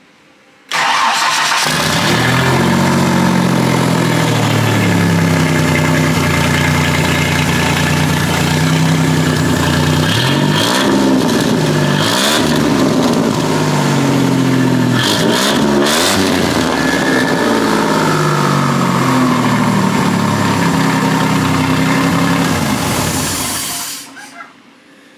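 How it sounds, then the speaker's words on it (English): A cheaply turbocharged Ford F-150 engine cranks and starts, then runs loud and close, idling with a rough throb and several sharp revs before cutting off near the end. "Damn, my turbo's still spinning."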